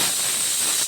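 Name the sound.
gas stove being lit, hissing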